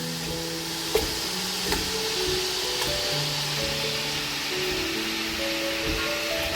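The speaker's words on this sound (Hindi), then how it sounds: "अब इसमें हम चिकन ऐड करेंगे अपना, ताकि इसको हम फ्राई कर सकें।" Chicken pieces frying in a pan of cooked-down spice masala give a steady, close sizzle with a few sharp pops and crackles from stirring, and no talking over it.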